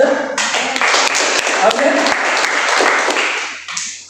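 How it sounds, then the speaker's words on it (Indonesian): Congregation clapping for God during a church service, a loud sustained burst of many hands that swells and fades near the end, with a voice speaking over it. "Yang cinta Tuhan, tepuk tangan untuk Tuhan kita."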